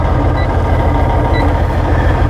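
A tractor-trailer on a Class A CDL road test backs slowly toward a curb, its reversing alarm giving faint, evenly spaced high beeps about once a second over a steady diesel engine rumble.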